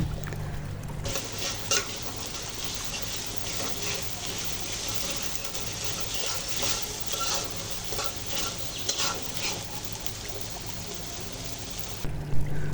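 Garlic and ginger paste frying in a pan for a shrimp and tomato curry, giving a steady loud sizzle with stirring scrapes that runs without a break, and no one speaks over it.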